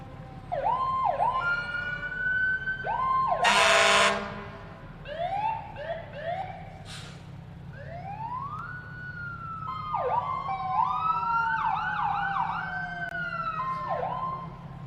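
Fire engine 241 of a volunteer fire department rolling past in a Veterans Day parade, giving repeated whooping siren sweeps and a sharp air-horn blast, loud and nearby over a low engine rumble.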